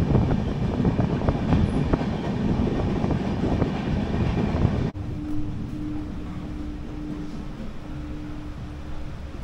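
Kandari Express 22898 passenger train on its night run from Digha to Howrah, a steady loud rumble of wheels and carriage that drops suddenly to a quieter roll with a thin steady hum partway through.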